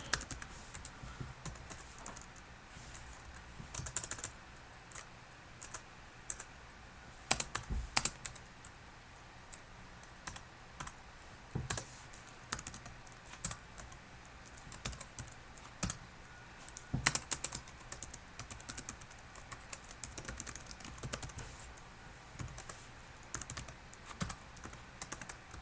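Someone types on a computer keyboard in quiet, irregular bursts of soft key clicks with brief pauses between runs, faint and close, alone without talk.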